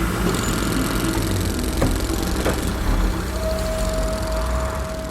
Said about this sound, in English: The sound you hear in the background comes from machines and vehicles running on diesel